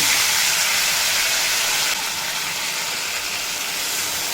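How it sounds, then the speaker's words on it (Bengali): Boiled vegetables drop into hot oil tempered with panch phoron, giving a loud, steady broadband sizzle and hiss that eases slightly partway through, with no talking. "ফোড়ন খুব ভালোভাবে হয়ে গেলে এড করে দেব সেদ্ধ করে রাখা সবজি"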